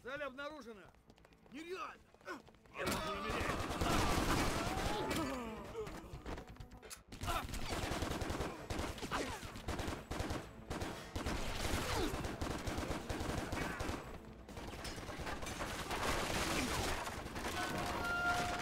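Gunfire in the action game Stranglehold: dense, loud bursts of shooting that roll on almost nonstop after a quieter opening, mixed with other chaotic game sounds.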